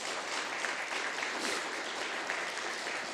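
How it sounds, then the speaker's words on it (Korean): A church congregation claps to welcome a visiting family from Mexico during a worship service, a short, even burst of dense clapping heard at a modest distance. "잠시 자리에서 일어나시면 우리 박수로 환영하도록 하겠습니다."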